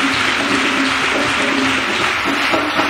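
A church congregation at a testimony gathering applauds and cheers for Jesus Christ in a steady, dense wash of clapping that fills the room without letup.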